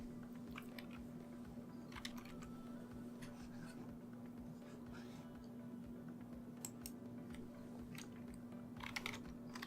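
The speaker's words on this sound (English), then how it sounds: "let us try using the keyboard" Keystrokes on a Logitech wireless keyboard clatter in short irregular bursts for nearly ten seconds, close and fairly quiet over a steady low electrical hum, with no voices.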